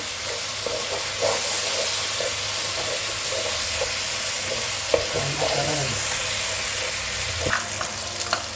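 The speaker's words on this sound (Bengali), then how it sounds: "খুব ভালো করে ভাজতে হবে পেঁয়াজটা" Onions fry in a pan for a Bengali mutton curry, giving a continuous sizzling hiss broken by scraping, clinking stirs at close range, with no voices.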